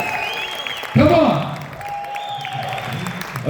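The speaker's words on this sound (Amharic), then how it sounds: "ለኔክሶ እስኪ አንዴ ሞቅ ያለ ጭብጨባ" An audience at a graduation event for a TikTok influencer academy claps for Nexo, a burst of loud applause starting about a second in and tapering off, with a few more claps at the end.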